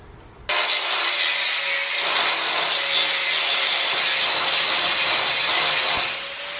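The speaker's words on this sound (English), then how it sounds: "we'll just hit them with a grinder real quick" A grinder works over welds on a DIY gaming rig frame. It runs as a loud, steady abrasive rasp for about six seconds after a sudden start, with no talk.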